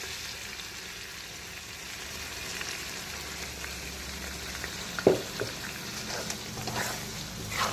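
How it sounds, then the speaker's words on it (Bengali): Spice paste frying with fried onions in a pan for prawn bhuna, a soft continuous sizzle with light stirring and a few small clatters. "এখন আমি এই পেঁয়াজ ভাজার মধ্যে দিয়ে দেব সমস্ত মশলা, মানে সমস্ত ভাজা মশলার মিহি পেস্ট।"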